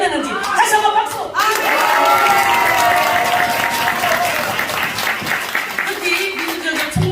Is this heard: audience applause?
yes